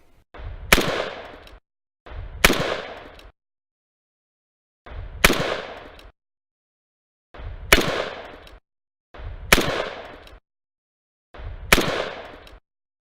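Six separate AK-47 shots of 7.62x39 ammunition fired at the edges of an armoured Nissan NP200 pickup, each a sharp loud crack with a ringing decay, spaced a second or two apart outdoors.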